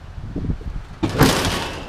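Heavy hood of a 1960s Kenworth semi truck swinging shut, a broad close thud and rattle after a moment of low shuffling, with no talk.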